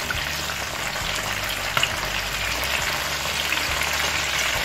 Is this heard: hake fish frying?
yes